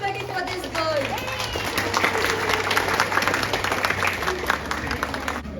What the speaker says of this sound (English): A round of applause from everybody for this girl.